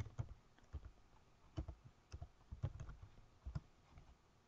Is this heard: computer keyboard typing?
yes